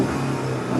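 A 2014 Ford Fusion Titanium with the EcoBoost engine revs briefly, a close, steady engine tone that holds through a short burst with no voices.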